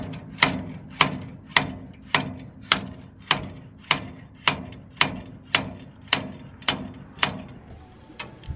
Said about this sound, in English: placing the flat edge of the washer inside the chamfer of the seal, and then just like slowly tapping it in